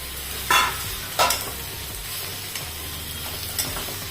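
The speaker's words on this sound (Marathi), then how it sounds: "आता आपण हे बटाट्याचे काप टाकून द्यायचे परतवून घ्यायचं" Potato slices sautéing in a pan, a steady low sizzle with occasional scraping stirs of a spatula, heard up close with no voices.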